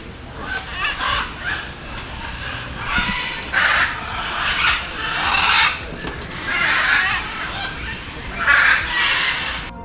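Macaws in a handmade park aviary at Foz do Iguaçu, Paraná, squawking in raucous overlapping bursts against a steady hiss of ambient noise, loud and close, a chorus rising and falling over ten seconds.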